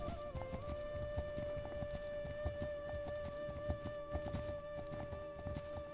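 Horse hooves cantering in the video game Legend of Khiimori, a steady rhythmic clip-clop running throughout over a sustained musical drone, with no talking.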